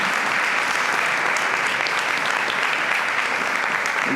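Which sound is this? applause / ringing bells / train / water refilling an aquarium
applause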